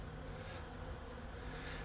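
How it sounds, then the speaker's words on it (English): A soft, continuous hum of honey bees buzzing in flight on a warm winter afternoon, faint and steady, with no other sounds standing out. "it's warm enough for the bees to fly"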